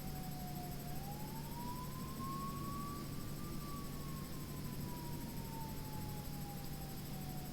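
Distant siren in the video game Genesis Alpha One, a single faint wailing tone that slowly rises and then falls back over a steady hiss of background noise, with no voices.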